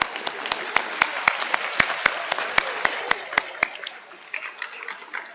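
Audience applause at a university opening convocation, a burst of sharp, fairly close hand claps that thins into scattered, softer clapping toward the end.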